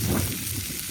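Garlic and onions fry in a pan for a dried-fish bhuna, a steady broadband sizzle with a rain-like hiss that holds evenly for about a second, close and fairly loud with no talking.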